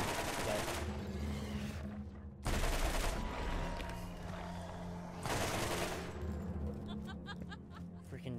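A gun fires in Borderlands in three loud bursts of rapid shots, each around a second long, over a steady hum of game sound, with a voice faintly present.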